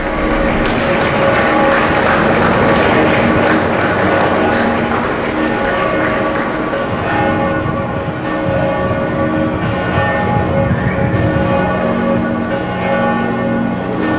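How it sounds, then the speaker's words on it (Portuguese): Church bells peal continuously at Pope Francis's funeral, a dense, bright ringing layered over a broad wash of applause from the gathered crowd. "Aplausos, o badalar dos sinos, é a despedida dos fiéis ao Papa Francisco"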